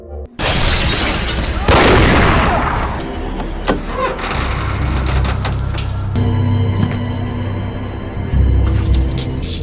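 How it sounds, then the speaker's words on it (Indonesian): Film gunfight during a raid in a forest: loud crashing shots and impacts burst in at once, a sharp blast near two seconds, then sustained heavy rumble with intermittent cracks and further hits for nearly ten seconds. "Aksi baku tembak sempat terjadi di sana."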